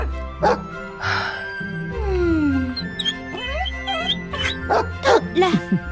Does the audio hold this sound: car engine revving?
no